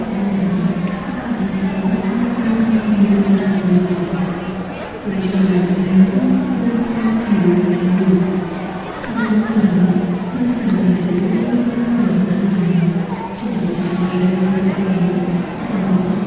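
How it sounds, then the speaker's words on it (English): A big crowd mills about in Bandung, West Java, a dense babble of voices rising and falling in waves, with occasional sharp hisses or whoops cutting through the steady hubbub. "And this is the crowd."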